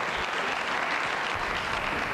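A TV studio audience breaks into steady, dense applause, a continuous wash of many hands clapping at an even loudness, with no voices standing out.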